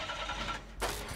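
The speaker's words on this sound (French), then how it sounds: "Oh, un moteur, Francis." A car engine starts up in a video game, a broadband mechanical rumble that shifts sharply partway through into a brighter, louder surge as it catches, heard alone with no talk.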